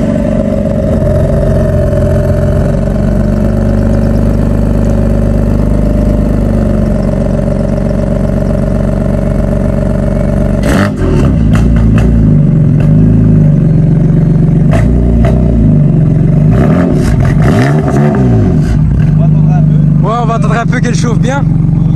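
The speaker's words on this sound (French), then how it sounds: "tu nous fais un petit cold start?" A stage 3 tuned BMW M3 F80 with over 700 hp fires up from cold, settling into a loud steady idle before sharp revs and throttle blips burst out near the end, with people talking over it.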